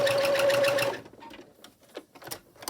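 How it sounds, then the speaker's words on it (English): A sewing machine runs steadily, stitching across both sides of a small fabric tote bag for an 18-inch doll, a close, continuous motor hum that stops after about a second, leaving faint handling sounds. "So I'm just going to sew across here on both sides."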